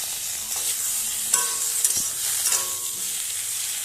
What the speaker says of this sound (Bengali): খুব ভালোভাবে ভেজে নেব বেশ লাল লাল মতো হওয়া পর্যন্ত আমি এটা ভাজতে থাকবো